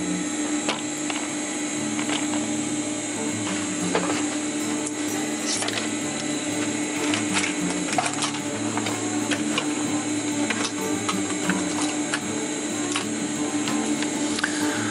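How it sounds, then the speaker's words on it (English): A sewing machine stitches fabric for a DIY rollup bag in one continuous, steady mechanical whir with a constant hum, close and even throughout. "now let's start sewing"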